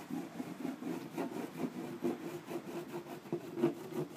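Kong surf wax rubbed onto a surfboard in quick repeated strokes, a soft rhythmic scraping and rubbing at close range, faint and steady without any talk.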